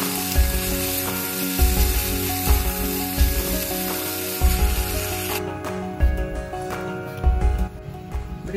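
Chicken pieces fry in a pan, giving a loud, steady sizzle with intermittent scraping and stirring knocks; the sizzle drops noticeably toward the end, and no one speaks.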